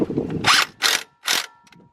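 Ratchet wrench with a 6-point 14mm socket turning a nut during Honda Civic A/C repair work, heard as three close, loud bursts of ratcheting clicks separated by short pauses, followed by faint tapping.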